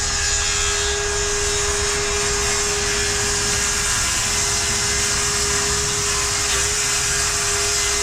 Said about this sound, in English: James is going to rip that piece off, and he's also going to cut this end, this overlap here as well